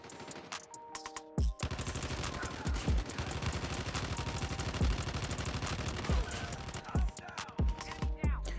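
Rapid bursts of AGR automatic gunfire in Call of Duty Mobile, loud and close, with repeated volleys and short pauses across the clip.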